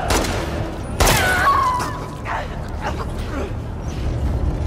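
Gunfire in the video game The Last of Us Part II: a sharp burst of shots near the start, then scattered bangs and thuds within a tense firefight, with voices shouting over the action.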